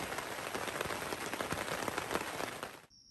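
Steady, dense patter of rain drumming on a taut tent fly overhead on the Appalachian Trail in Maine, close and constant, cutting off abruptly near the end.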